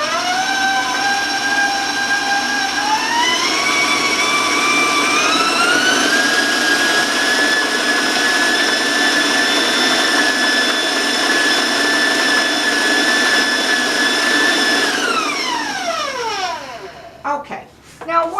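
An electric mixer beats ginger cookie dough containing cider vinegar: a loud, steady motor whine rises in pitch as it speeds up, holds for about ten seconds, then winds down and stops near the end.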